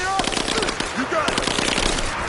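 Gunfire in Rise of the Tomb Raider comes as rapid bursts of automatic shots with scattered single cracks, loud and dense throughout, while voices shout over the shooting.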